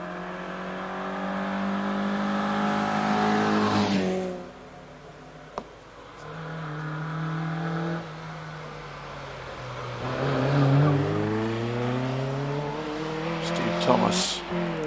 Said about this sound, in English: the Austin Healey Sprite, is heading around Pardon at the moment